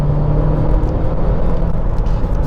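A 2012 Audi A1 quattro with a turbocharged engine gives off a continuous, loud, low rumble and whir, holding steady throughout with no talking.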